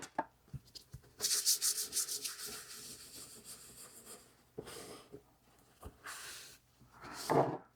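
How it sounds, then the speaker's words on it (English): A wax layer is buffed by hand on a wood-panel painting, heard as quiet, close rubbing strokes in uneven bursts separated by short silences and light taps. "So I'm just going to buff this one out"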